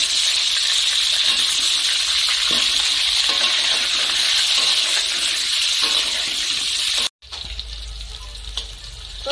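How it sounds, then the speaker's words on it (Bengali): Potatoes sizzle steadily in hot mustard oil in a wok, a loud continuous frying hiss with occasional stirring scrapes, briefly cutting out before resuming slightly quieter. "তেল ভালো মতো গরম হয়ে গেছে, এখন আমি আলু ভেজে নিচ্ছি।"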